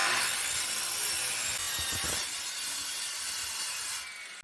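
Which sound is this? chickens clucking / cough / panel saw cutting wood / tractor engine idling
panel saw cutting wood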